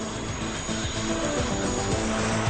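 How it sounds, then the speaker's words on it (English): An Erickson heavy-lift air crane helicopter working on power line construction drones steadily with a loud, continuous rotor and turbine roar, faint rhythmic blade thumping underneath. "these heavy-lift Erickson helicopters aid in power line construction"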